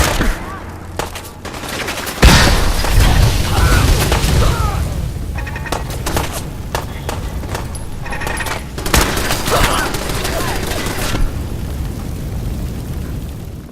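An explosion goes off in the video game Fallout 4, a sudden loud boom after a short lull, followed by sustained rumbling, bursts of gunfire and scattered combat noise.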